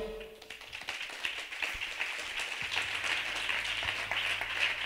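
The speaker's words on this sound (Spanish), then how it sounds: "Gracias por las palmas" Audience clapping at a live closing event of a national prison writing gathering, a steady wash of applause building and holding, with a few taps and sparse voices underneath.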